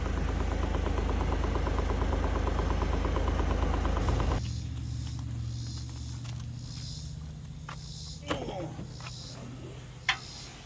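A 2009 Smart Fortwo with fresh engine mounts and valve cover gasket idles with a steady low drone and intake hum; the engine drops to a quieter idle partway through, then a couple of sharp clicks follow.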